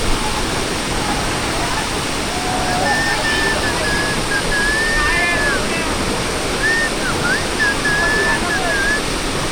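Steady broadband roar of the Saatsada waterfall near Nanemachi, loud and continuous, with voices and bird-like whistles faintly over it.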